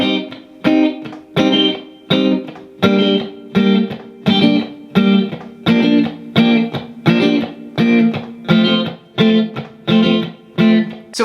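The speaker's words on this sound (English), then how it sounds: "the second electric guitar part basically he's playing the same exact chords, but he's doing a little bit of a different strumming pattern" An electric guitar strums reggae pop chords with the fingernail in a steady, repeating rhythm, each stroke ringing briefly before the next, played alone with a slightly gritty tone.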